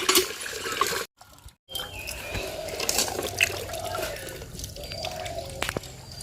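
Water sloshes and drips in a container as freshly caught leta fish are soaked and washed in a village, with trickling and splashing throughout and a brief silent gap early on.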